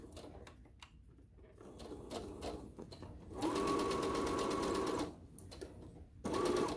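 A sewing machine stitches a fabric mask, its steady motor whir and needle chatter running in two loud, sustained bursts, with quieter handling sounds and pauses between them.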